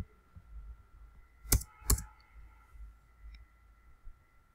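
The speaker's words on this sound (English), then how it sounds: "type commands." A computer keyboard being typed on at close range, two distinct sharp key clacks followed by a few fainter taps over a quiet room hum, with no talking.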